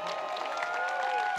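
An audience claps for a guest at a political roast event, the applause moderately faint and spread out, mixed with some crowd murmur.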